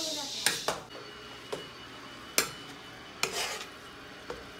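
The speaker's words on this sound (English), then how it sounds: "And then we're gonna stir it again" A special spoon stirs cheese into food in a pot during a family cooking lesson, giving a series of sharp scraping clinks against the metal at irregular intervals over a faint sizzle.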